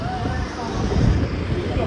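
Wind gusts on an overcast, rainy day in Gujarat, a dense rumbling roar buffeting the microphone, loud and continuous, with a voice partly heard beneath it.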